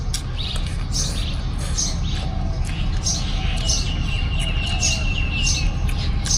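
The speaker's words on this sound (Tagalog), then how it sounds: "Marami rin pong ibon." Birds chirping and squawking near a grassy fishing spot, scattered bright calls repeating over a steady low rumble of wind or background noise.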